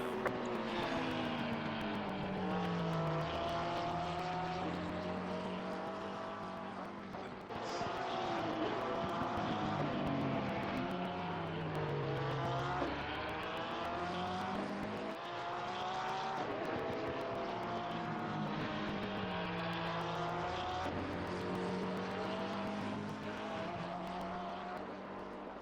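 GT3 race cars lapping Brands Hatch in Assetto Corsa Competizione, several engines droning loudly and continuously with repeated rising and falling pitch sweeps as cars pass and shift, no talk.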